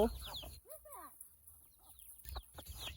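Chickens cluck and squawk close by in short bursts, with bumps and rustling between calls.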